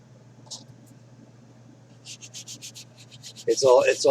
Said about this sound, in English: you can sand the seam together without harming the windshield at all